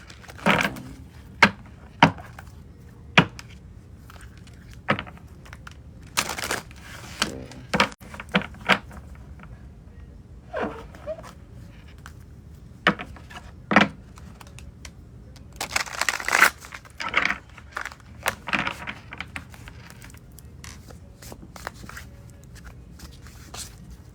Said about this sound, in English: I wasn't done shuffling, so I am going to reshuffle.